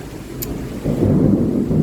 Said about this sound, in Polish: Wow, ale grzmi